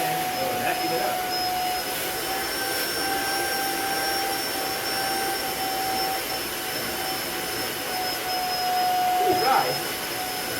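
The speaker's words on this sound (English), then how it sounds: "So it's spray water, so I'm gonna spray this area right here," A portable carpet cleaner runs steadily, a loud, even whine with a high tonal hum as it sucks up sprayed water from carpet, someone talking over it.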